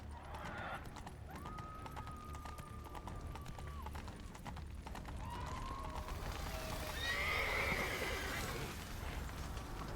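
A horse whinnies in the video game The Witcher 3: Blood and Wine, with a long drawn-out neigh standing out over a constant noisy background, followed by hoofbeats and rustling.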